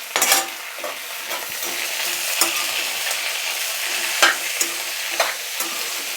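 Tomatoes cut into thick pieces fry and sizzle in a pan over a low flame for paneer butter masala, a steady hiss broken by a few sharp stirring scrapes, with no talking.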